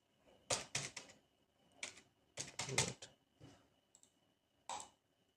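Computer mouse clicks come in quick clusters of crisp, close taps with short gaps between them, quiet overall and without speech.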